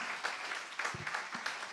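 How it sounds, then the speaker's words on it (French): Applause from an audience at a mock-trial session during a media industry event, a steady, even wash of clapping at moderate distance with no talk over it. "On peut l'applaudir."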